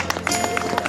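Brief, uneven clapping from a small audience at an outdoor vigil, a handful of distinct hand claps over murmuring voices.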